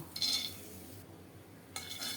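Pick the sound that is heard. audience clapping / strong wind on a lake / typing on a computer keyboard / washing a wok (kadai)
washing a wok (kadai)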